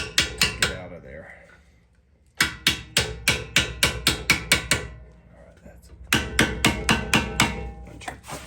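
A steel punch taps a front strut bolt on a 2010 Honda CR-V 4WD in sharp, evenly spaced metallic strikes, heard in three quick bursts of several taps each with short pauses between.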